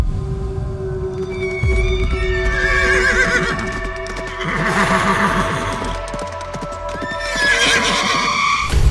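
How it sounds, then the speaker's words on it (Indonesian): A horse neighs and whinnies repeatedly in long rising and falling calls, with clip-clop of hooves underneath, loud and close. "Kok kayak ada suara kuda."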